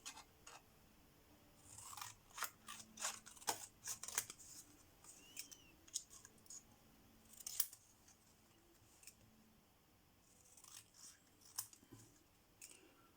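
Scissors snipping paper gift tags at a craft table, a run of sharp, close, crisp cuts in irregular bursts with brief pauses between them, no talking over them.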